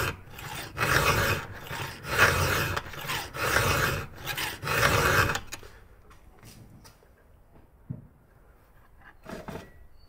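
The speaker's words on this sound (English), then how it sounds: "just keep going with that file until we clear that" A hand file rasps across a full chisel chainsaw chain cutter in four rhythmic, loud strokes, then quieter light scraping and small clicks.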